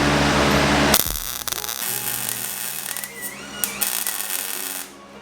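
Metal is welded on a 1979 Odyssey FL250 frame. A harsh, hissing crackle lasts about a second, then gives way to a quieter electrical buzz and faint scraping, and no voices are heard.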